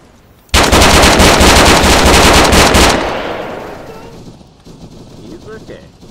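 A machine gun fires a long, loud, rapid burst in the video game Arma 3, starting abruptly and lasting a couple of seconds before the echo fades away into quiet.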